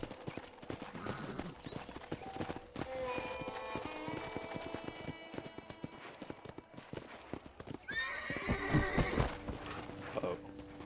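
Horse hooves clip-clopping along with a couple of neighs and whinnies from a horse in the Red Dead Redemption 1 western game, set against game music and occasional character voices, the hoofbeats steady and moderately loud.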